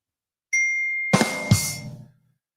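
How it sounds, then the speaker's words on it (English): A single bright ding rings out and sustains, followed by two quick jingling strikes that fade away. "I keep hearing a bell ringing."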